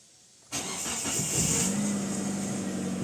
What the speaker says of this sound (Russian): Сейчас заведем его, послушайте, как работает.